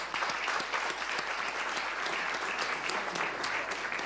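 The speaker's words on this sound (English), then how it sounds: "He deserves a round of applause." A World Economic Forum audience applauds a speaker, even dense clapping heard at moderate distance and holding steady for the whole stretch.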